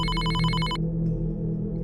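A telephone on a hotel reception counter rings with a bright, rapid electronic trill that cuts off after under a second, leaving a low hum beneath.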